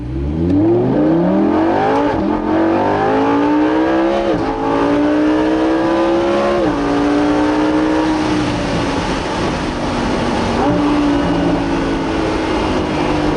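The 5.2-litre V10 of an open-top Lamborghini Huracan Spyder howls loudly as it drives, its pitch climbing through repeated rising pulls with brief dips at gear changes, a continuous powerful roar throughout.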